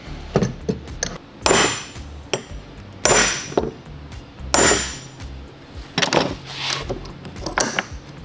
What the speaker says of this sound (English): the more simple version of this, which is just the kind you hammer.